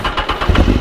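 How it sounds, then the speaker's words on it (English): A BMW HP4 superbike's engine gives a short, loud rev up close, a brief rising burst of throttle from idle lasting under a second. "we'll give you a little tiny little rev just so you can get a little inkling."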